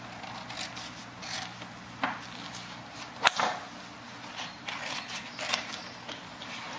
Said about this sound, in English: Take some scissors and trim.